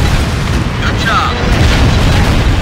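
Heavy, continuous rumbling booms of bombs exploding on a ground-strike raid in the jet combat game Ace Combat Infinity, loud and sustained for the whole stretch with no pause.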